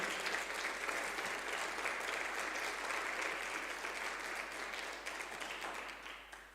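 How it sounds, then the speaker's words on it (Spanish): Steady, loud applause from a church congregation fills the whole stretch, holding even and only tapering slightly near the end, with no talking over it. "Le damos un fuerte aplauso al Señor."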